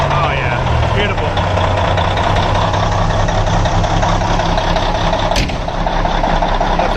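A primed diesel truck engine running after cranking, a loud steady low rumble and clatter holding throughout at close range.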